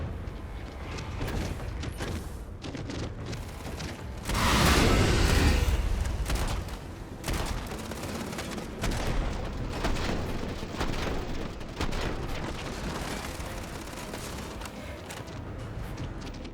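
Gunfire and booming blasts in Starfield during a fight against albino pteromorph creatures, a dense rumbling barrage with bursts of shots and a loud impact swell, steady over the whole stretch.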